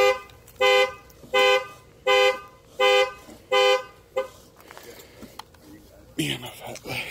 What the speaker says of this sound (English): Me and my fat legs squeezing my own car alarm.